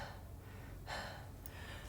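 A speaker pausing mid-talk to catch their breath, giving a sharp gasping inhale and heavy breathing, close and fairly quiet, alone without speech.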